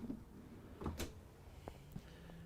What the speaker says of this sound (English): all of these drawers are what they call soft close drawers